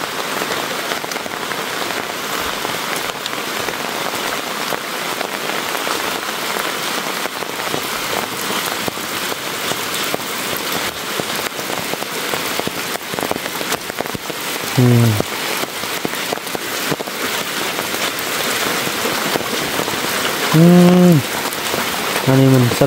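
Steady rain falls across a rural forest camp, a dense even patter on the ground and surfaces that continues without a break, with a few faint low knocks near the end.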